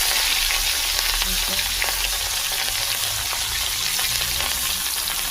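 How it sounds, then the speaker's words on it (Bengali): Rohu fish frying in hot oil in a wok crackles loudly and densely, a continuous close sizzle with bubbling pops and no voices. "কড়াইতে তেলটা একটু গরম হলে এই মাছটা দিয়ে দেবে ভাজার জন্য"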